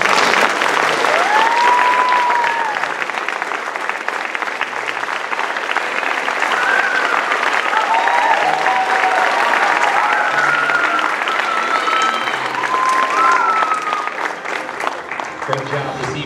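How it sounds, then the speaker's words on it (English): Loud, sustained applause for pageant candidates returning to the stage at a Miss Harvest Homecoming event, dense clapping filling the room with cheers and excited voices rising over it throughout. "give them one more big round of applause"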